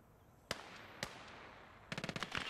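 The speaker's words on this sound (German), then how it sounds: "Schießen wir mal eine Granate rein." Sharp gunfire cracks in the Gates of Hell war game: two single shots about half a second apart, then a rapid burst of several reports, fairly faint against quiet background ambience.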